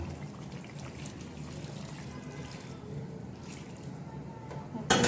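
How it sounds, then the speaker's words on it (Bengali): Warm water is poured into a pot of chicken posto curry, making a soft, continuous trickling splash that stays fairly faint, with a brief louder burst at the very end. "আমি এখন ঝোলের পানি দিব"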